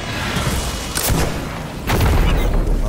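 Weapon fire in the video game Destiny 2, two heavy booming shots about a second apart, loud and close over a dense rumbling backdrop, no talk.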